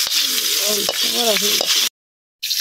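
Onions fry in hot oil in a pan for a curry, a loud, close, continuous crackling sizzle with a faint voice murmuring underneath, then a sudden brief silence before the sizzle resumes.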